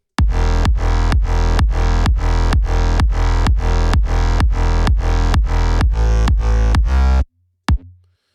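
Deep synth bass notes pulse in a steady, driving rhythm with a kick drum punching on each beat, loud and alone, ending in a short tail.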